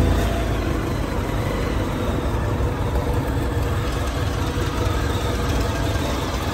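A 2010 Honda VFR1200F motorcycle with an automatic DCT gearbox idles close by, its engine giving a dense, steady rumble that holds evenly throughout with no talking.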